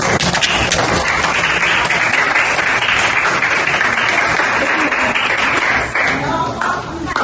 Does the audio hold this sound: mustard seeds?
no